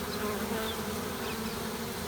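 A steady, dense buzzing of a honey bee swarm, continuous and fairly loud throughout with no pauses.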